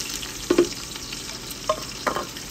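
Onions for chicken shawarma frying in a pan, a soft low sizzle punctuated by a few distinct stirring scrapes and clinks of a utensil against the pan.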